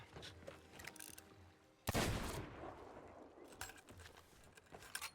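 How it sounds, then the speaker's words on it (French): Gunfire in the Sea of Thieves video game, one loud close shot standing out among a few fainter pops, over a quiet game background. "c'est Mathieu qui me tire dessus, là"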